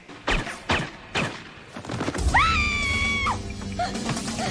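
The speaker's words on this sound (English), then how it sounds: "Why are you screaming?" A person screams in a crime comedy movie scene, a long sustained shriek preceded by a few sharp thumps and short outbursts.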